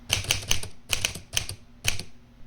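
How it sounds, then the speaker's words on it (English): A green Smith Corona Silent Super typewriter in very good mechanical condition is typed on in four quick bursts of clacking keystrokes, close and crisp, with short pauses between bursts and no talk. "I did a quick type test here just to show."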